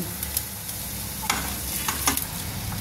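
Cumin seeds, bay leaf and grated ginger crackle and sizzle in hot ghee, a steady close frying hiss broken by a few sharp pops and light stirring scrapes, with no voices.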